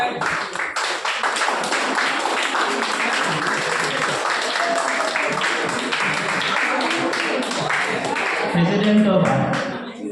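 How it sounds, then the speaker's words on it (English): Sustained applause from a seminar audience at a workshop on intellectual property management for start-ups, dense steady clapping filling the room for about ten seconds. "please give a big round of applause for her"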